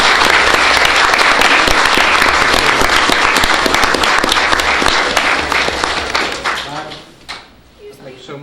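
An audience at a city council meeting gives a loud, sustained round of applause for emergency responders, dense clapping that tapers off near the end, with a voice speaking over it.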